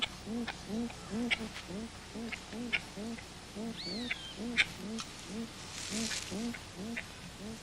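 A trumpeter bird's alarm call warning of a large snake, a rapid repeated run of low hooting calls in a steady rhythm, loud and close, with a brief higher cry partway through.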